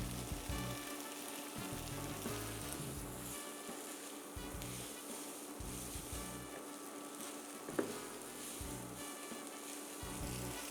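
Soy sauce and sesame mixture sizzling in a hot pan with lo mein noodles, a continuous hissing fry with a faint low hum in the background and one brief clink, no talking.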